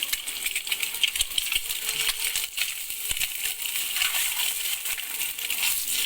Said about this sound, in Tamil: இப்போ நான் வேக வச்சு எடுத்த எக்கு போட்டுக்கிறேன்